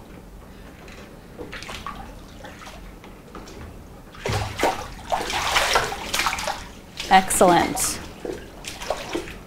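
Water splashes and drips in a hydrostatic weighing tank as a person in a swimsuit wets their hair, irregular sloshing bursts that grow louder midway, with brief speech over them.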